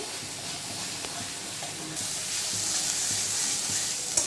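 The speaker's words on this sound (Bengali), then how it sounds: "এই গ্যাসের আঁচটা বাড়িয়ে রেখেছি সমস্ত মশলার সঙ্গে ভালো করে মিশিয়ে সমানে নাড়তে থাকবো" A spice mixture sizzling and being stirred in a pan over a high gas flame for a bitter gourd mash: a soft continuous hiss that grows noticeably louder halfway through, with faint scraping taps, no voices.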